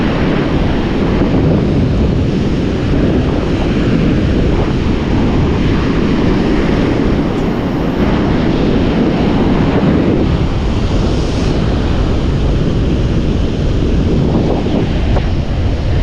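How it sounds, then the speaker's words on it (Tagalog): Sea waves wash onto a shore in a steady, loud roar of surf, with heavy wind buffeting the microphone throughout and no voices. "Yan ang dagat."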